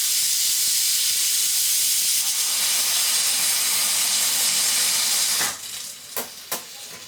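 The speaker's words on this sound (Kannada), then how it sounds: "ಅದಕ್ಕೆ ನಾವೇ ಎತ್ಬಿಡ್ಬೇಕು ಅದು ವಿಷಲ್." A faulty home pressure cooker, cooking rice, lets out a loud, steady steam hiss when its whistle is lifted by hand, which cuts off after about five seconds, leaving a few short sharp bursts of steam.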